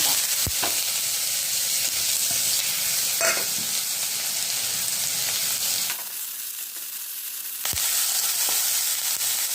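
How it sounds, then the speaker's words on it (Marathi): Onion fries in hot oil with mustard seeds and is stirred, giving a loud, close, continuous sizzle with occasional sharp pops and scrapes; the sizzle briefly drops quieter before resuming. "कांदा लाल होईपर्यंत परतून द्यायचा आहे आपल्याला"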